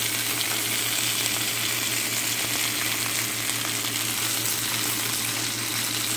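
Apple salmon sizzles in a grill pan with a steady, close frying hiss and a low continuous hum underneath, with no talking.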